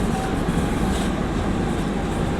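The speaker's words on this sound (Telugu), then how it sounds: "ఈ హంసఫర్ ఎక్స్ప్రెస్ ట్రైన్ అయితే కన్మర్కి వచ్చిందో ఇదే లాస్ట్ ట్రిప్ ఫ్రెండ్స్" A Humsafar Super Fast Express train at Karimnagar railway station gives a loud, continuous close rumble and rolling clatter of coaches passing, with no voices.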